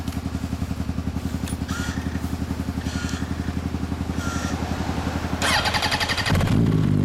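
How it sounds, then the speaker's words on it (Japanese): A 2007 Yamaha YZF-R1 motorcycle with a Yoshimura slip-on exhaust idles with a steady, throaty pulse, then blips the throttle into a louder, raspier roar near the end. "オッケー、エンジン音聞かせてもらえる？"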